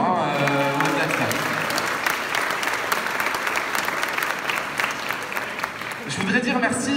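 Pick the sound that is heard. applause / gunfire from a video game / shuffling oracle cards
applause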